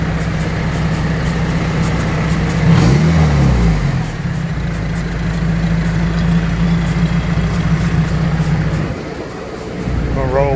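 Honda B18C1 engine idling in a car with a clutch making an awkward noise, a steady low hum with a brief rising-falling rev swell partway through, under speech.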